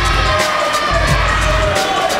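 A wrestling crowd at a live indoor show roars and chants loudly and continuously, a dense wall of cheering voices.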